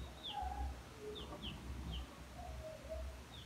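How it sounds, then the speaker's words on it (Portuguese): Small chicks peep in thin, high chirps scattered over a low steady rumble of background noise, with a few soft lower calls between them. "E o pintinho faz piu, piu, né, João?"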